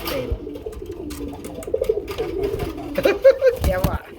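A female Bombay Rasgolla pigeon with a white head, tail and chest coos in a soft, repeated, close-up murmur. Someone speaks over the coos.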